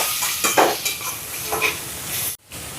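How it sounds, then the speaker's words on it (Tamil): Chopped onions with salt sautéing in a pan for prawn rolls, a steady frying hiss with a few scraping stirs of a spoon against the pan, close and loud, ending in a brief cutoff. "இப்போ இதை கலந்து விடுவோம், நல்லா வதங்கி வரட்டும்."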